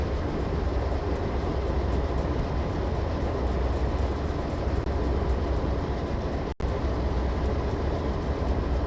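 Constant rolling rumble of a train coasting on reduced throttle in a train simulator game, steady and close with a faint wheel clatter, broken only by one brief dropout.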